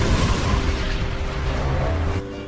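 A real building explosion as a converted old candy factory standing in for Gotham General hospital is blown up, a loud sustained rumbling roar that holds steady before easing off near the end.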